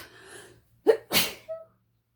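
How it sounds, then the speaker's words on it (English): A single loud, close sneeze with a sharp inhaled build-up, then an explosive burst and a brief vocal trailing sound. "Oh, I'm going to sneeze."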